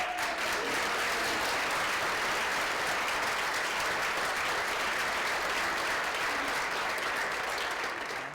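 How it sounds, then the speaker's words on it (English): Audience at a lunchtime lecture at a Benedictine institute applauds in a steady, even round of clapping that fills the room for about eight seconds, without talk over it. "Well, another round of applause."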